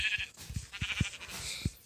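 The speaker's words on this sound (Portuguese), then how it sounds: "Já estamos vendo ovelha ali." Sheep bleat in Minecraft, several short nasal bleats in quick succession over a thin game background, fairly close and clear, with no talking.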